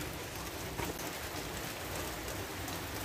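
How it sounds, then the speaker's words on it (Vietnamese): Steady rain falls outdoors during an on-and-off rainy afternoon, making a dense, continuous hiss of drops on surfaces that stays even and fairly loud throughout, with no voices. "mưa gì mà mưa, cứ chút mưa chút tạnh, chút mưa chút tạnh, không làm được gì"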